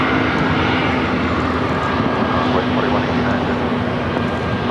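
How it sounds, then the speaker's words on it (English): A British Airways Airbus A350-1000 airliner comes in to land, a constant loud jet roar with a faint whine, heard from the ground without talk. "British Airways Flight 289 coming in from London Heathrow, the A350 1000"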